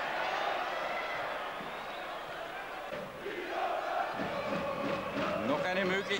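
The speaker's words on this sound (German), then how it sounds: "3:1 für die Austria und daher jubeln die Fans in Violett" Austria Vienna supporters in violet cheering and chanting at an indoor football tournament, a loud crowd roar swelling toward the end with a commentator talking over it.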